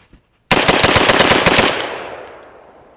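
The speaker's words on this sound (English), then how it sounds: "I'm going to shoot it unsuppressed, gas setting number 2, and mag dump it into the berm here" Meridian Defense Volk-S 7.62x39 rifle fired unsuppressed in a rapid magazine dump into a dirt berm outdoors, a fast string of loud, close shots in quick rhythm, then a long echoing decay into quiet.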